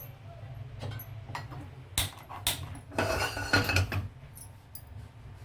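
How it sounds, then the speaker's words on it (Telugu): A kadai is set on a lit stove in a home kitchen while egg fried rice is being made, giving a few sharp metallic clanks and clicks close by over a quiet background, with no talking. "ఇప్పుడు స్టవ్ ఆన్ చేసి కడాయి పెట్టుకుందాం"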